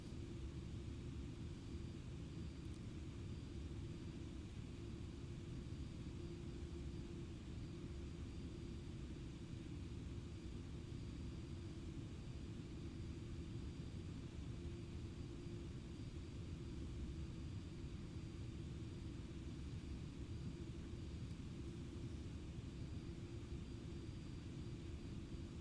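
A Boeing 747-400ER in the X-Plane 11 flight simulator gives a constant low engine rumble and airflow drone, steady and faint, with a thin high whine above it.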